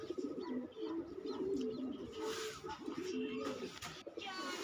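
Fancy pigeons kept by a breeder coo close by in repeated low, rolling throaty phrases, with soft rustling and a faint murmur in the background.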